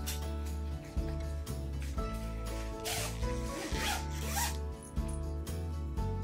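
A zipper on a transparent storage box for winter blankets is pulled open and shut in repeated close, loud rasping strokes with brief pauses between.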